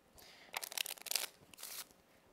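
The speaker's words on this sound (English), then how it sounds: "As I bury it into the pack of playing cards, watch. I'll give it a shuffle as well" A magician shuffling a deck of playing cards: a quick, close flurry of crisp riffling snaps in two or three bursts, ending within about two seconds, with no talking.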